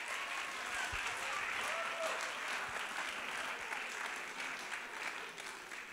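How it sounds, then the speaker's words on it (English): An audience at an interactive talk gives sustained applause, a full, even wave of many hands clapping that holds for several seconds and fades slightly at the end. "Let's just give those lovely people standing up a huge round of applause and thanks."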